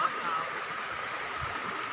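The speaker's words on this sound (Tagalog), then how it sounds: "ganyan na ganyan lang po ang tubig dito, tsaka yung maraming bato" A river flows over many rocks, giving a steady, close broadband rush of stream water with continuous gurgling texture and no pauses; a voice is faintly present underneath.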